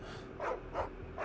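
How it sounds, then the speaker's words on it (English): A dog in the Final Fantasy XVI video game gives three short, evenly spaced barks, clear and fairly close, over a low steady background. "That was a dog."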